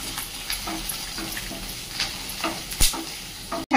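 Crushed garlic, ginger and cumin paste with finely chopped curry leaves frying in a pan: a steady close sizzle with scattered stirring scrapes and a sharp clatter near the end, no talking.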